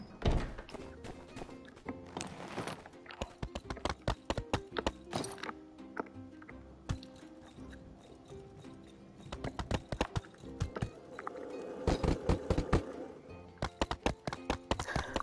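Horse hooves in the video game My Time at Sandrock clip-clop in quick irregular bursts, sharp clattering strikes on a hard surface, close and clear.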